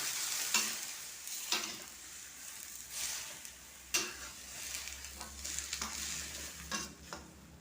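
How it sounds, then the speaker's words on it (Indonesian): Vegetables are stir-fried in a pan over a low, steady sizzle, with several sharp scraping strokes of a spatula spaced irregularly a second or so apart. No one speaks. "Kita tumis-tumis sampai dia matang."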